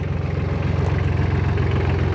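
A Solis 26 mini tractor with a Mitsubishi engine idling, a loud, steady low rumble with an even chugging pulse throughout, close by.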